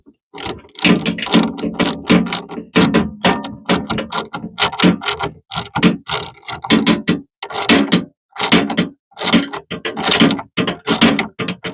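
A ratchet wrench clicks rapidly in close, loud bursts of cranking with brief pauses between strokes, heard alone during work on an off-grid solar system setup.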